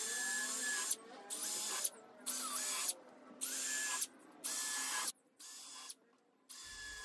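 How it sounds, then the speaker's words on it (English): A power drill pre-drills screw holes in wood holding a 3/4 inch pipe for a flip top bench cart, sounding in about six loud, whining bursts of roughly a second each, separated by short pauses. "I begin to pre-drill the holes and then attach the screws."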